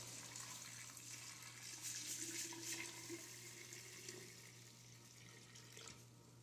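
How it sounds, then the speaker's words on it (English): Warm water runs from a tap into a case wet-tumbler drum, a steady broadband rush of flowing water that continues without a break throughout, fairly quiet, with a faint hum beneath it and no talking. "This is out of the tap. And we'll fill it up."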